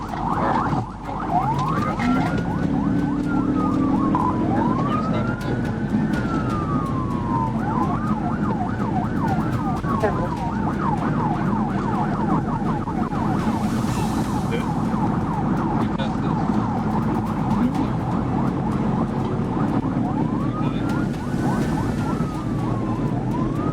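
A police car siren wails continuously through a high-speed chase, rising and falling in long repeated sweeps over loud engine and road noise.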